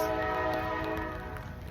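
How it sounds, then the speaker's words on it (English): A train passes close by with its horn sounding in a loud, steady sustained blast over the rumble of the rail cars. "don't listen to the trains."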